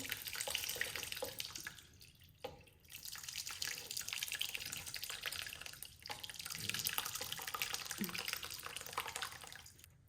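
Melted deer tallow is poured and splatters into water while being rendered for soap, giving a steady close trickling, dripping splash with a few brief pauses and knocks, low in level.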